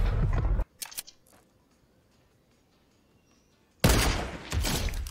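Gunfire in the Fortnite Chapter 2 video game: a loud burst of rapid shots opens, then near-silence, and another dense, sustained burst of firing returns toward the end.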